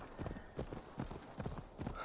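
Hooves of a horse clip-clop in the video game Assassin's Creed Valhalla, a moderate, evenly spaced trot of distinct close footfalls repeating about every half second with soft ambience beneath.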